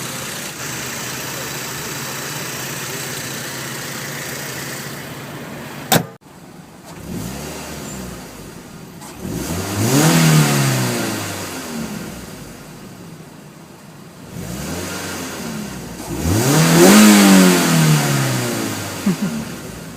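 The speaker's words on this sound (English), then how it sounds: "It is a very rev-happy engine." A 2011 Mazda MX-5 Miata engine idles, then revs sharply twice, each rev climbing to a loud scream before dropping back to idle.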